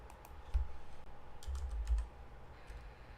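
Keystrokes on a computer keyboard while someone solves a cryptic crossword, a few quiet taps and a short burst of clicks, faint and close with no talk over them.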